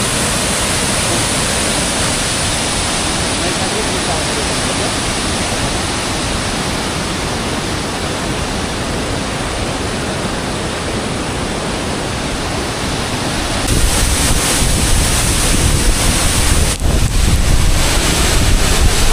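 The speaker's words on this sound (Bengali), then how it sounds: "Welcome to zona false." Jonha Falls waterfall, heard as a loud, continuous, close roar of rushing water that swells slightly louder toward the end, with no voices over it.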